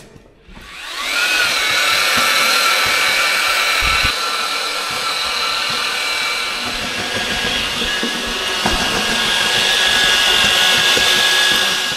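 An electric power mixer whirs steadily as it stirs floor resin for coating an agricultural building, a loud continuous drone after a brief start-up, running alone with no talk.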